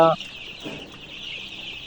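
Ten-day-old Sonali chicken chicks peep in a steady, bright chorus that runs throughout, with one louder call at the very start.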